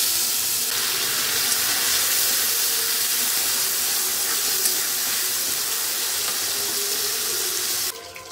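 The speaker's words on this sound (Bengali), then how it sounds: "একটু তেল দিয়ে মাছটা ভেজে নেব" Small Bengali mourola fish frying in oil in a pan, a steady, dense sizzle that holds evenly at close range with no talk, then drops away abruptly at the very end.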